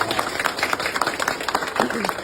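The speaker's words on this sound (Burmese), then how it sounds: "သမီးလေးဇင်နိုဝင်းကိုဂုဏ်ပြုတဲ့အနေနဲ့လက်ခုပ်တဲ့အကျယ်ကြီးချီးမြှင့်ပေးပါ" An audience applauds to honor a young girl, a dense burst of many hands clapping close by, with a voice talking over it.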